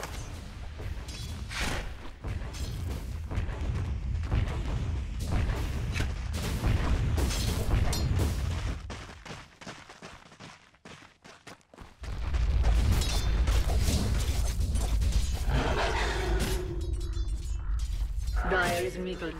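Tower-under-attack combat in Dota 2, a dense run of sharp impacts, booms and clanks near and loud, easing into a quieter patch midway before heavy layered hits and rumbling effects return, with a voice speaking over part of it.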